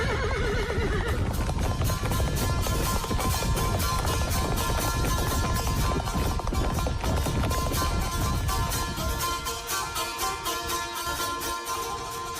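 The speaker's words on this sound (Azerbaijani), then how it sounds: "Kəhərlərin kişnərtisi, qılıncların şaqqıltısı çölü düzü başına götürür" Horses gallop and neigh as a sound effect in an Azerbaijani FM radio programme: a rapid, continuous drumming of hooves with loud whinnies over it, close and full, fading slightly toward the end, with no speech.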